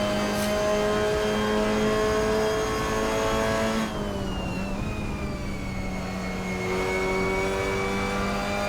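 Mazda MX-5 race car engines whine and climb in pitch as they labour up a hill at Watkins Glen in Assetto Corsa, a continuous loud drone with shifting revs and gear changes.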